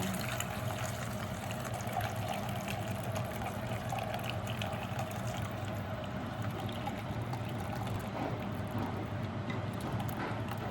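Boiling water from cooked noodles is poured through a strainer in a home kitchen, a steady, even rush of splashing water running throughout at moderate distance.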